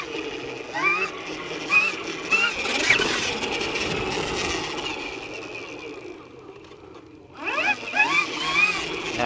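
An Electric Motion Epure Race electric trials bike accelerates in short bursts, a rising motor whine with mechanical chatter and clatter, fading to a quieter stretch before surging again.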